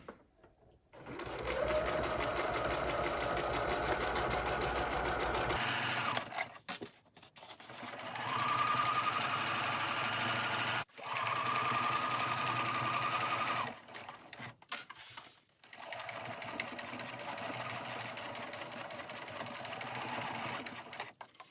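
A sewing machine stitches the edge of a skirt in several long, steady whirring runs. Brief pauses and short stops separate the runs.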